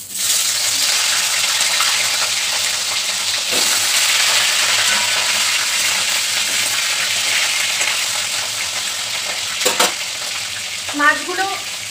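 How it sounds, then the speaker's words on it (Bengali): Fish drop one by one into hot oil and fry with a loud, steady, close sizzle that runs throughout, broken near the end by a few brief clatters and bubbling pops. "তেল গরম হয়ে গেছে, এবার আমি এক এক করে তেলের মধ্যে মাছগুলো ছেড়ে দেব।"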